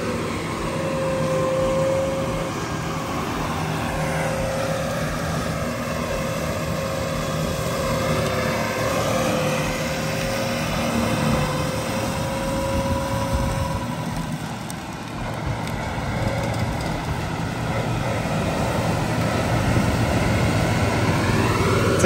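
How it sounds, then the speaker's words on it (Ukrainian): A surface mulcher levels the ground outdoors, a continuous loud engine drone with a churning rumble that holds steady throughout and is heard without speech. "Правда, не в лісі, це поверхневий мульчер. А от просто по землі рівняє."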